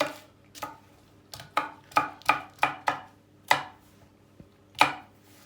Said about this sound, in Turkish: köy biberi, yeşil biber, sivri biber ne varsa hepsini şöyle bir karışıp doğruyoruz